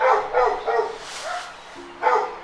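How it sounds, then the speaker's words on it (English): A dog barks in a run of loud, close woofs, pauses, then lets out one more bark with a thin whine, while no speech is heard. "You can tell the dog's trying to make enough noise to get over my message."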